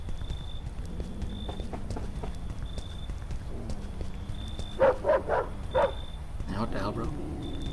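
Dogs bark outdoors at sunset in several sharp bursts toward the end, with a clip-clop rhythm and a voice talking around them.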